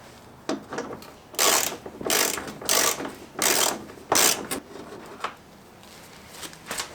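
A hand ratchet clicks in several short bursts as it loosens a 10mm bumper bolt where the bumper cover meets the fender on a 2009–2013 Subaru Forester, loud and close with brief pauses between strokes.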